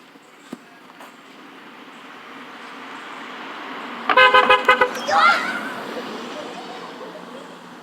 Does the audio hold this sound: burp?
no